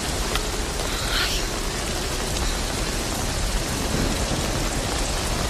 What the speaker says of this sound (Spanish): está lloviendo mucho